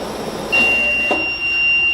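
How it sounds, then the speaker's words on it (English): A SixSense stove safety device sounds its alarm as a steady high electronic tone that holds from the middle of the short stretch to the end, set over a faint background hum. "Turns off, alarm goes off."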